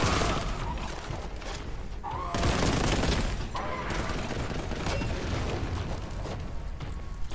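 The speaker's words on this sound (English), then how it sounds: "another grenade" Grenade explosion amid dense, continuous gunfire in visceral video game combat, with loud bursts and rattling shots layered throughout and barely a pause.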